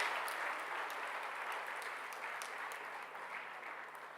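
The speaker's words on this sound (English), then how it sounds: "Please give a big round of applause for all the efforts which these children take" Sustained round of applause from an audience at a college inauguration for first-year BBA, B.Com and B.Sc Psychology classes, steady dense clapping throughout with no voices over it.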